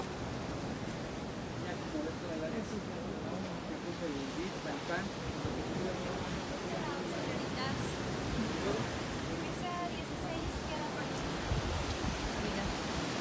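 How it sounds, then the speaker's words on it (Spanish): Ocean surf at Los Cabos, Mexico rolls in a constant broad wash of waves, blended with wind buffeting the microphone and faint voices beneath. "Vean las olas."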